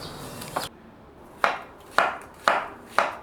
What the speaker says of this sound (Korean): 나무도마 소리가 너무 좋아요.